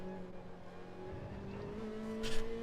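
A Ferrari race car running on hard tyres in a racing video game gives a faint, steady engine drone that rises gradually in pitch, ending with a brief burst of noise near the end.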